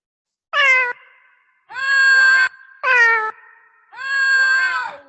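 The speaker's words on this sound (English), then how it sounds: "Let's put meow below it." Four separate cat meows with short pauses between them. Some are short and some are drawn out, all loud and close, with no other sounds.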